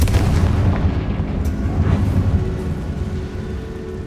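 The Confringo fire spell from Hogwarts Legacy bursts in a loud, rumbling explosion that fills the space, its deep roar with faint crackles fading gradually over several seconds.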